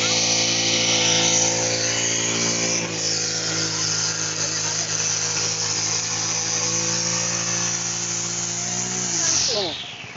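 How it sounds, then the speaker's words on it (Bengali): A multi-purpose machine fitted with a nylon cutter head trims grass, its engine a loud, steady high whine held throughout before dropping in pitch near the end. "এই যে এইগুলো ঘাস এইটুক সময়ের মধ্যে কাটা শেষ হয়ে গেছে"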